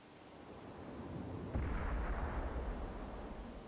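A single heavy cannon blast from a tank in World of Tanks, a low, muffled boom that swells partway through and rumbles on over a steady background roar.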